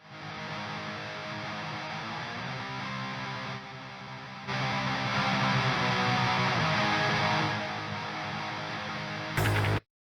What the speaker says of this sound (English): And the guitar sounds like this.